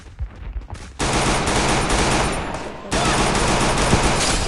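Loud, close automatic gunfire from the Free Fire battle game, with a rapid continuous burst starting after a brief quiet lead-in and a second sustained volley near the end, with a little speech underneath.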